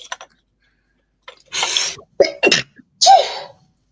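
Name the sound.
sneeze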